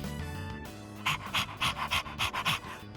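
A dog panting in Persona 3 Reload, quick rhythmic breathy huffs repeating close up, with soft background music underneath.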